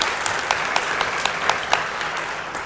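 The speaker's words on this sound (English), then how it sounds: "another round of applause and thanking Cy for being here today." Loud, close applause from an audience thanking a speaker at a National Nurses Week event, with brisk, dense clapping and a few sharper individual claps standing out, steady from start to finish.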